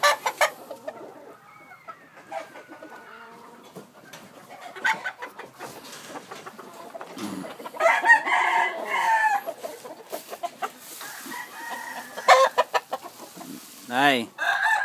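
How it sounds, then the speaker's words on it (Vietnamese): Black Jap Asil Peru gamefowl roosters crowing and clucking in a yard, several overlapping calls and clucks at varying distances, with a person speaking briefly among them. "Bên đây cũng là gà đá luôn."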